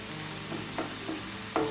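Tomatoes fry in a pan for Hilsha Kalia, giving a steady soft sizzle with a few brief scrapes or spatters over a short stretch, with no voices.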